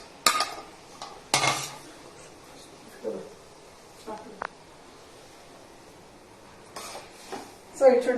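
A spoon scrapes and clinks inside a pot as channa is stirred into kheer, giving scattered bursts of metallic scraping with quiet pauses between strokes, and a voice speaks briefly in between.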